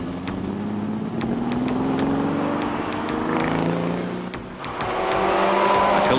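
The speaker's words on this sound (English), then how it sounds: "A 12-cylinder symphony." A 1969 Ferrari 365 GT twelve-cylinder engine races past during a TARGA Tasmania rally event, loud rising and falling engine roar with gear changes, close and continuous.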